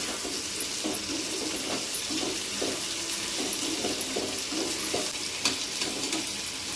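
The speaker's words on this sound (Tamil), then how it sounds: "தக்காளி வதக்கிடுச்சுங்க, முருங்கைக்காய் சேர்த்தும் வதக்கிக்கலாங்க" Tomato and drumsticks sautéing in a pan, a steady close sizzle broken by regular scraping and stirring strokes, with no talk.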